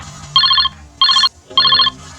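A telephone rings after a number is dialed, giving three loud, close electronic ring bursts separated by brief pauses, with no talk over them.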